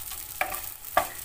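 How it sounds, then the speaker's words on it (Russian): Vermicelli fries in butter in a pan with a soft steady sizzle. Two short, distinct scraping stirs sound close by. "На сливочном масле. Жарю вот эту вермишель."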